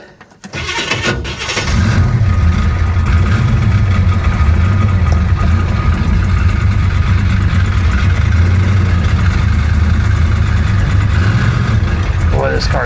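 A flood-damaged 1966 Chevrolet Impala with a 427 engine fires up and settles into a loud, steady, rough idle that runs unbroken.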